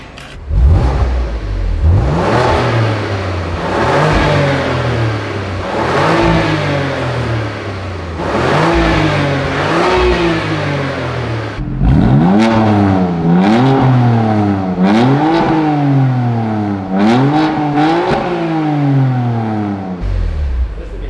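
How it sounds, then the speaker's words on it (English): A BMW M2 Competition with a very loud modified exhaust revs repeatedly, close up, rising and falling in roughly a dozen sharp climbs over a steady idle, the later revs quicker and more rhythmic. "Start it up. Let's get some exhaust clips, and then we'll do it together."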